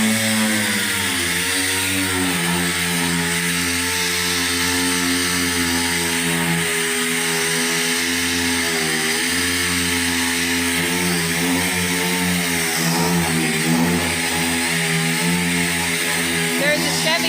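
A dual-action sander with 80-grit paper works over the body of a blue OBS truck, producing a loud, steady, unbroken whirring drone for the whole stretch, with voices faintly underneath.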